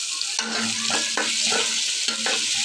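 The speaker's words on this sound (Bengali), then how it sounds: "এখন কাঁচা মরিচ দিয়ে দিলাম হলুদ দিয়ে দিচ্ছি" Green chillies and turmeric sizzling in hot oil in a pan for fish head curry, a loud continuous hiss with repeated spatula stirring and scraping strokes.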